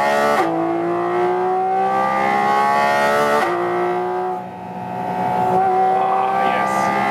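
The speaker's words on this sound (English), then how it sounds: "I love this naturally aspirated engine." The naturally aspirated engine of a Porsche 718 Cayman GT4 RS in its sportiest mode revs hard and steadily, rising in pitch through a shift and dipping briefly before climbing again, with no talk.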